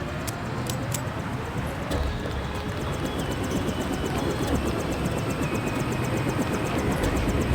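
A helicopter in the video game Deus Ex gives off a steady, loud engine and rotor drone with a faint rapid beating on top, holding evenly throughout with no talk.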